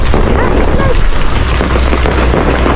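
A dense, loud barrage of New Year's fireworks in Greenland, with booms and crackles overlapping into a constant roar with no pauses.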